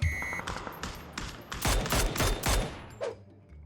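Video game gunfire erupts while shooting from a vehicle: a burst of sharp, loud rapid shots clusters in the middle, with a brief electronic tone at the start and a quieter shot near the end, no talking.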